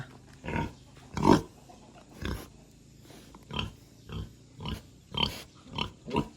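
Wild boar grunting in a forest at Doi Sakad, Thailand: about eight short, gruff grunts spaced irregularly at moderate distance, with quiet forest ambience between them.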